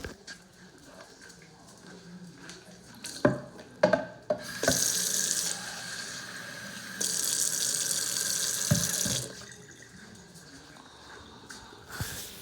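A kitchen tap runs into a sink in two bursts of steady rushing water while carne guisada is cooked, between clanks and handling of dishes close by.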